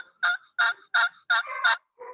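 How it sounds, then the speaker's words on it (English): A wooden turkey box call is stroked to make a series of about six sharp, raspy yelps in a steady rhythm, close and fairly loud, with no voices. "we have a box call here"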